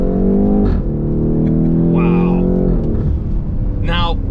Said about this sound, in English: it's the lift-off overrun as well